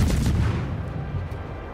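Naval guns boom from a destroyer in the World of Warships video game, a heavy close blast with a low rumbling tail that fades over about a second.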